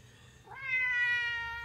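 A single drawn-out cat meow rises and then trails off, fairly soft against a quiet low rumble.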